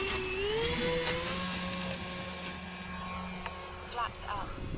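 The engines of an Avios King Twin 1700mm RC plane whine with steady tonal drones that rise and shift in pitch as it takes off. The sound is fairly loud, and voices talk over it.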